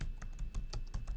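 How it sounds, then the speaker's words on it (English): Quick bursts of typing on a computer keyboard, a rapid run of close, light key clicks with a few slightly heavier strokes, no voices. "I'm going to type general notes"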